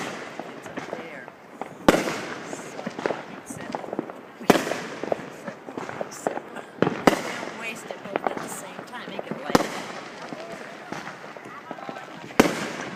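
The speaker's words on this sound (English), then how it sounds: "this place sounds like an absolute war zone. And there's just nothing but explosions." Fireworks and firecrackers bursting around a Sterling Heights, Michigan neighborhood in daylight, sharp booms and crackles from near and far over a constant rumble of distant explosions.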